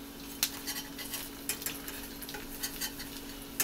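An egg frying in a pan while a utensil works at flipping it: a faint, steady sizzle broken by several sharp metallic scrapes and clinks, with no talking.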